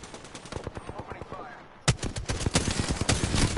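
Rapid bursts of gunfire in the video game Apex Legends, loud and close, with a brief quieter gap before a dense run of repeated shots resumes, and voices faintly beneath.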